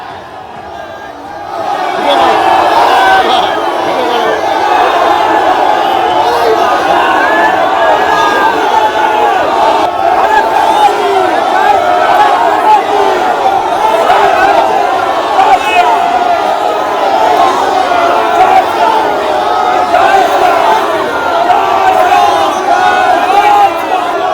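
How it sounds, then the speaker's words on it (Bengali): Rival political crowds in Asansol, Trinamool and BJP supporters, chant slogans at each other in a face-to-face protest clash; a dense, loud, continuous roar of many voices shouting in rhythm throughout. "মুখোমুখি দুপক্ষের স্লোগান যুদ্ধ চলে"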